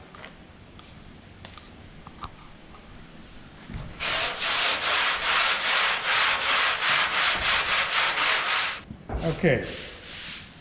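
A 120-grit sanding block rubs back and forth over Bondo body filler in a run of loud, rhythmic scraping strokes lasting several seconds. A brief voice comes just before, and a few more strokes follow after a short pause.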